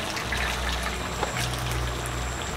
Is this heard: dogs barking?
no